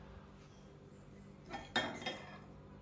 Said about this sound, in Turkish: Şöyle ortalarına birer çatal batırayım.